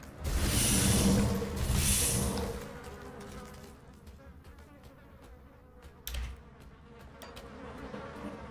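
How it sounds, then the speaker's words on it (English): Insects buzz in the video game Grim Dawn, a loud droning swarm that swells over the first two seconds. It then settles into a steadier, quieter hum with a few sharp clicks, and no one speaks. "Don't even like the buzzing sound that you get."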